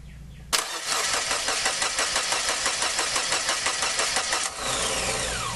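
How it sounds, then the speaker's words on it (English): A 1993 Geo Metro engine cranks with a rapid rhythmic whir, then catches and runs roughly for several seconds before the cranking cuts off, loud and close. "Turn it over again."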